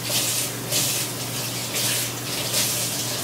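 Tap water runs steadily into a sink, a continuous close hiss with a faint hum underneath.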